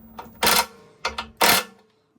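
A ratchet with a 3/8 socket turns a small 3/8 bolt on a 20-year-old pressure washer, giving three short, close mechanical bursts of clicking separated by brief pauses.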